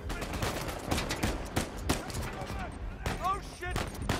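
Repeated sharp gunshots ring out in Uncharted 4: A Thief's End, quiet and fairly distant, scattered in bursts across the scene while a voice speaks briefly over them.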